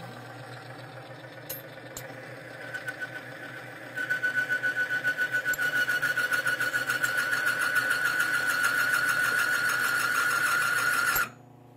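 A Timken bearing test machine runs loaded with hanging weights while testing Power Up NNL 690 lubricant. It gives a steady, close mechanical whir whose pitched whine grows louder and strains after a few seconds, then cuts off abruptly near the end.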